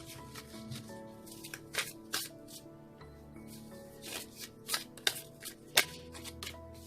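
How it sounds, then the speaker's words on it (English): Tarot cards being shuffled by hand at close range, quiet riffles and soft slaps in irregular bursts with a few sharper snaps between. "One more shuffle, they say. Another, they told me."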